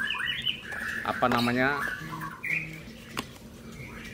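Birds at a bird market squawk and chirp in short harsh bursts close by, mixed with a person talking and light background noise.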